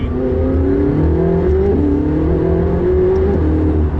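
McLaren 675LT engine revving hard under acceleration, a loud, close, continuous roar whose pitch climbs steadily through the rev range with a brief dip at each gear change.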